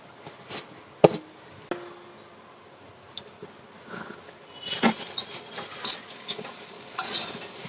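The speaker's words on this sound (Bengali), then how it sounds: "আমি কিছু নারিকেল এভাবে করে কাটছি, যাতে প্রত্যেকটা কামড়ে পড়লে ভালো লাগে খেতে।" Knife cutting coconut pieces in a home kitchen while making Eid zarda semai, a few scattered sharp taps and scraping cuts, sparse at first then busier toward the end, close and fairly quiet, with no talk.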